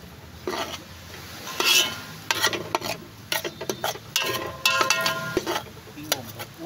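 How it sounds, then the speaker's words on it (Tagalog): Garlic stirred in hot oil while cooking goat papaitan, with irregular scraping and clinking of a utensil against the pan over a soft sizzle, close and moderately quiet. "Mikos-mikos aron maluto ang ahos, garlic."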